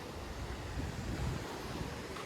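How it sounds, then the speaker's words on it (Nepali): Cold wind blowing at a new cement bridge that replaced an old wooden one, heard at sunset as a steady, rushing roar of broadband noise with low buffeting gusts against the microphone and no talk. "क्या चिसो हावा आइरहेको छ यहाँ"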